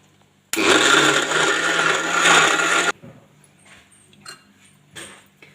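A blender whirs loudly for about two and a half seconds, mixing mango mastani with ice, then stops abruptly, followed by a few light knocks and clatters.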